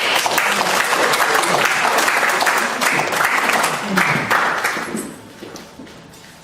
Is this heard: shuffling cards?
no